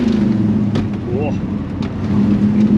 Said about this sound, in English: Slow gear change.